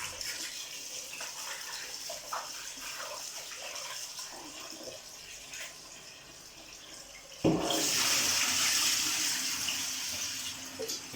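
Potatoes being rinsed under a running kitchen tap for leek and potato soup: low trickling water at first, then a sudden stronger gush of flowing water that carries on steadily to the end.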